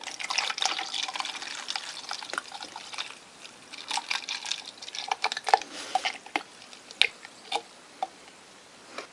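Mountain Dew soda poured through a funnel into a Starbucks cup, a steady liquid trickle with faint splashing and a few scattered drips and ticks near the end, fairly quiet and with no talking.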